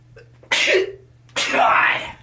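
Two sharp, loud bursts of a sneeze, a short breathy onset followed by a longer explosive release, close to the microphone.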